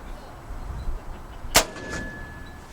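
A single sharp air gun shot fired at a ground squirrel outdoors, one short loud crack standing out against a quiet background of light ambient noise, with a faint ringing tail after it.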